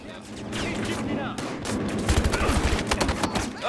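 Gunfire in the Battlefield Hardline video game, with rapid bursts of shots and volleys stacking densely throughout, loud and close, building heavier toward the end.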